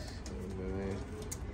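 Pigeons coo softly and repeatedly inside a racing pigeon loft, low throaty calls with faint voices in the background.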